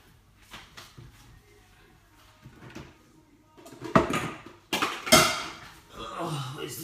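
Metal pots and pans clatter and clank as someone rummages through them for a frying pan, with a few scattered knocks building to louder bangs near the end.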